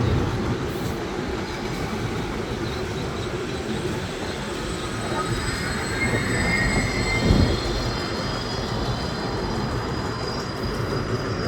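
A train pulling into Krung Thep Aphiwat station in Bangkok, a steady low rumble of rolling stock with faint metallic squeals rising midway, heard from the platform amid station ambience.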